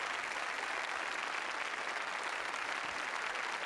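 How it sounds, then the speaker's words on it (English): A crowd in a movie scene claps after a speech. Steady, continuous applause plays at a low, distant level for a few seconds, with no voices over it. "They're clapping after his speech about Charlie and his integrity."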